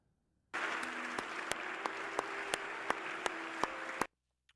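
Crowd applause cutting in abruptly and holding steady, with sharp individual claps standing out at a regular rhythm, about ten evenly spaced loud claps over the roar, then stopping suddenly into near silence.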